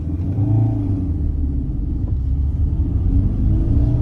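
A car engine labors with a deep, steady rumble as it climbs the steep road up to Sajjangarh Fort, with a low strained drone throughout.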